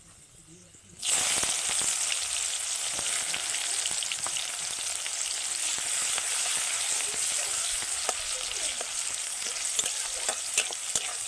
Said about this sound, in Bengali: এইবার দিয়ে দেব কিছুটা পেঁয়াজ কুচি